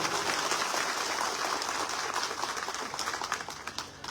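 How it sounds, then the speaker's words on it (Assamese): Audience applause at a foundation-stone ceremony for a sports academy in Udalguri, quiet steady clapping from a distant crowd that thins out toward the end. "একবাৰ হাত চাপৰি বজাই দিয়ক"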